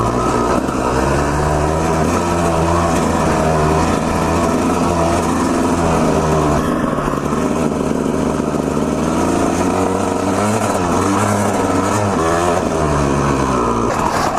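A two-stroke dirt bike engine revs loudly and continuously up close on a steep hill, its pitch rising and falling with throttle changes throughout, without any voices.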